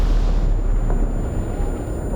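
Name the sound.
explosion in the VR video game War Remains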